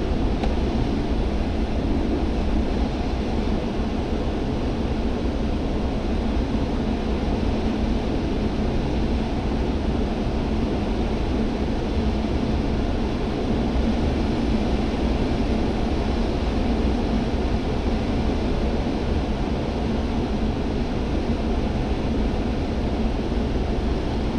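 Steady, broad rushing airflow with a low rumble, continuous and unbroken throughout, like wind streaming past a gliding aircraft.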